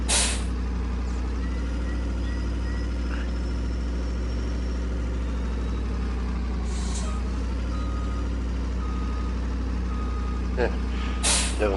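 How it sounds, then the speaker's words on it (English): Truck air brakes give short, sharp hissing bursts at the start and again later over a low, steady engine idle on a farm. "I said, why am I hearing air brakes?"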